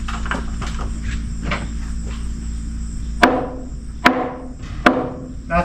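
Three heavy sledgehammer blows strike a sawmill building beam, sharp and close with ringing decay, spaced under a second apart after a stretch of steady insect or cricket chirping and faint scuffing.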